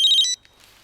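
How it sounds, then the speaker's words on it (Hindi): A phone rings in a tense crime-drama scene, a bright electronic tone pulsing in short repeated bursts for about a third of a second, then cutting off into quiet room tone. "ये तो फ्रेडिक्स का फोन है।"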